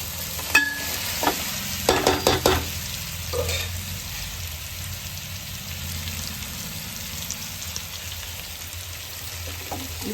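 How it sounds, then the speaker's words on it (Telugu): Crabs drop into a hot pan for crab curry, a burst of clatter and spitting at first that settles into a steady, close, even sizzle of frying. "ఇప్పుడు మనం ముందుగా కలిపి పెట్టుకున్న పీతల్ని ఇందులో వేసేస్తున్నాం"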